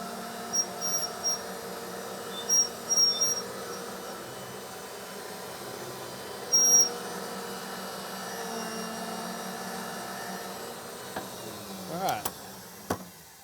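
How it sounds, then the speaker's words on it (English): A reamer cleans the inside of a freshly cut pipe end during pipefitting work, a fairly quiet, steady mechanical drone with a few short bumps and sharp clicks toward the end. "I'm going to go ahead and clean the inside with the reamer."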